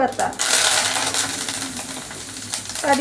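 Mustard seeds and curry leaves crackle and sizzle in hot oil for a Gujarati dahi kadhi, a dense steady spitting hiss with sharp popping close up, no voices over it.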